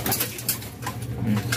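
A pigeon coos softly in a low, repeated murmur against quiet background noise, close by and faint.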